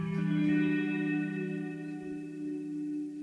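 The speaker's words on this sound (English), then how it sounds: "you've got that sort of reverb tail" A sustained tonal chord rings out and slowly decays in a bright, lingering reverb tail from the Crystalline reverb plugin, fading gradually rather than cutting off.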